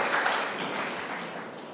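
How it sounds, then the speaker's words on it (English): An audience at a robotic surgery panel discussion gives a round of applause. The dense crowd clapping is loud and continuous at first and eases slightly toward the end of the short stretch. "let's all give him a round of applause"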